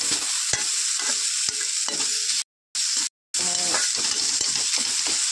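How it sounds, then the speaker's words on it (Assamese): Red bottle gourd flowers fry in a pan for a paneer curry, the sizzle broken by scraping stirs and clanks of a utensil, with two brief moments of silence midway. "লাওৰ ফুলৰ অকণমান গন্ধ থাকিব পাৰে, সেইকাৰণে মই ভালদৰে ভাজি লৈছোঁ"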